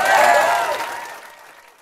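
Audience applause at a Bernie Sanders speech on tuition-free public college, a burst of clapping that fades away over a couple of seconds.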